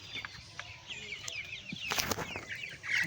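Broiler chickens cluck and chirp softly at a distance, with occasional wing flutters and scuffles in a quiet coop.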